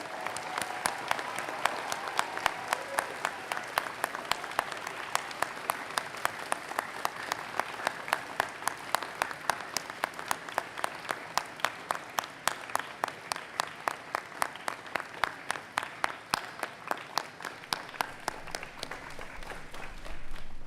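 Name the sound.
applause for graduating class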